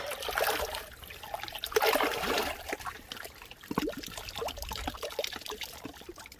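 Water trickling and splashing in a natural warm hot spring: an uneven, bubbling dribble with brief pouring surges, close by and fairly loud, no voices.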